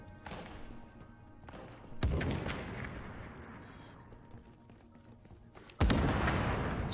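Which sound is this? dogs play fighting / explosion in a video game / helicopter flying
explosion in a video game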